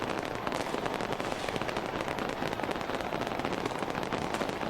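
New Year celebration fireworks in Auckland, New Zealand: dense, continuous crackling and popping bursts fill the whole stretch at steady loudness, with no clear gaps and no voices.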